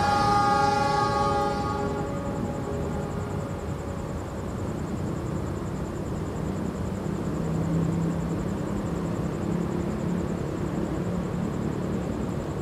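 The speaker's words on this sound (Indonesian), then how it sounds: "Ini tepat jam 6:40, kereta api Gajayana diberangkatkan menuju Malang." Gajayana passenger train departing a station for Malang, a loud horn blast opening before the rumbling rolling noise of the moving train continues steadily and close by.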